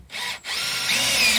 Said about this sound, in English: I kind of have to free float this wall when I'm screwing it together